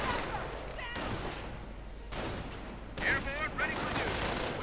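Gunfire in the real-time strategy game Company of Heroes, with a sniper among the troops: a dense, steady crackle of distant shots runs throughout, with a louder burst near the end as game unit voices chatter over it.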